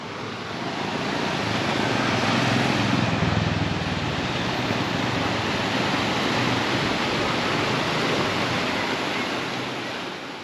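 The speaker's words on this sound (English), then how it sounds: "this whole waterfall goes down into a gorgeous river at the end" A waterfall near Guatape, Colombia pours steadily, a loud, continuous broadband rush with no breaks from start to finish.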